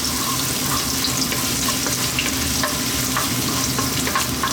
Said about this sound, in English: We're going to start off by putting in our ginger.